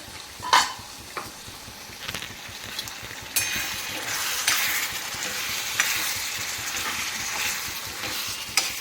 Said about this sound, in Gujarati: જો સબ્જી આપણી બને છે